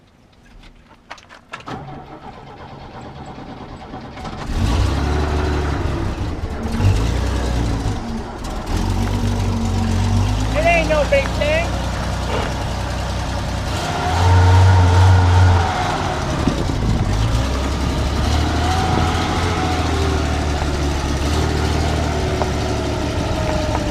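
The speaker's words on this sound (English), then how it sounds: "an example of how well a 45-year-old truck starts" A 45-year-old truck engine cranks and catches after sitting unused for two or three weeks, then settles into a steady, loud rumbling idle with a few revs; a voice speaks briefly near the start.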